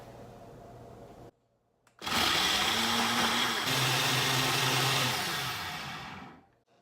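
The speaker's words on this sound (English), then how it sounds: "throw it on my blender, and blend it up." After a brief quiet, a blender making a breakfast smoothie roars to life and runs loudly and steadily for several seconds before winding down and stopping.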